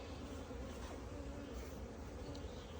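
Honey bees make orientation flights around their hive, producing a faint, steady buzzing hum of many insects in the open air without any clear voices.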